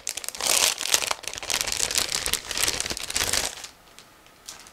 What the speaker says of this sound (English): next we continue with another plastic bag, because you remember there is a second plastic bag with figure parts